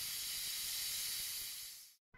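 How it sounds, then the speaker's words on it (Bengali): Potatoes with water and salt cook on a gas stove, giving a steady, soft, airy hiss that cuts off abruptly after about two seconds. "এর মধ্যে আমি আলু, জল আর নুন দিয়ে এটা গ্যাসে সেদ্ধ করতে বসিয়ে দিলাম।"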